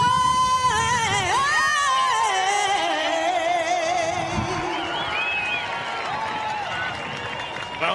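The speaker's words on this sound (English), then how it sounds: "And the crowd have come in here and they're thousands to support these two sides." A large stadium crowd of thousands at a USA versus Canada Test rugby match, a broad steady roar with cheering and shouts holding loud throughout, easing slightly toward the end.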